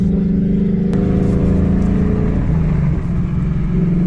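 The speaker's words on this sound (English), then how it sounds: "There's the rev match, which that's pretty cool." A Ford Mustang Dark Horse with a manual gearbox blips its engine to rev-match on a downshift, a loud, close, steady engine drone with a brief rise and fall in pitch and no talking.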